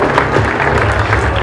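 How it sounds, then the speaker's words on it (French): A crowd applauds the Human Powerhouse women's cycling team at the Tour de France Femmes start in La Gacilly: a brief, loud, continuous burst of outdoor clapping and crowd noise. "Merci d'applaudir la formation Human Powerhouse."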